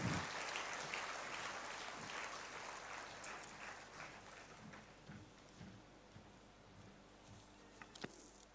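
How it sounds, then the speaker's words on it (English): A crowd at an inter-religious gathering in the Bom Jesus Basilica, Old Goa, gives a sustained round of applause, a soft continuous patter heard from a distance that slowly tapers. "May I please request all of you to give him a thunderous round of applause."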